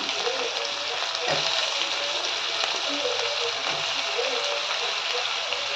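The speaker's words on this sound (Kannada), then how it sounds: "ಕ್ಯಾರೆಟು ಇದನ್ನು ಹಾಕಿ ಫ್ರೈ ಮಾಡ್ಕೊಳ್ತೀನಿ ನೋಡಿ" Carrots, beans and drumsticks fry in a pan with a steady, loud sizzle throughout, joined by light stirring and a speaking voice.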